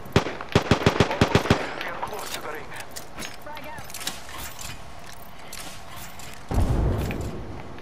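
Frag grenade detonation in Apex Legends gameplay: a rapid burst of sharp cracks and clicks early on, followed by a deep rumbling blast a few seconds later, loud and close.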